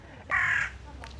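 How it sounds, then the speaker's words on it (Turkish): A single crow gives one hoarse, drawn-out caw at moderate distance, with a fainter second call trailing off afterward against outdoor background. "kargaları da çok severim. Onların sesleri."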